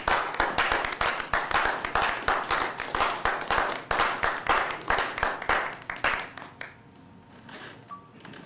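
An audience gives the Quaker community a round of applause at a Montgomery bus boycott remembrance, loud steady clapping from many hands that thins out and fades near the end.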